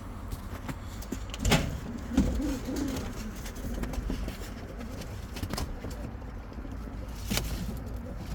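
Young spotted pigeons coo softly in a loft or on a rooftop, low murmuring calls rising now and then above a steady background, with a couple of brief louder thumps and no talking.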